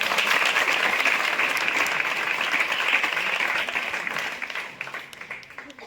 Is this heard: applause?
yes